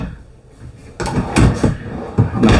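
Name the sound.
RV cabinet drawer closing, not soft-close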